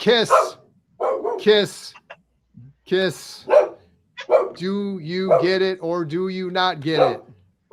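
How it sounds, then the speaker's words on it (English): A pet dog barks in short sharp yips indoors, the barks mixed in and alternating with a person talking close to the microphone. "Sorry, that is the dog barking."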